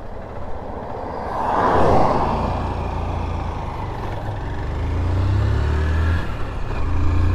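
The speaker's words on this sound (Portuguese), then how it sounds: "Esse carro aí passar." A vehicle passes along a rural highway near a village in Argentina, its roar rising loud and close, then fading, while a steady engine rumble from the rider's own motorcycle continues underneath.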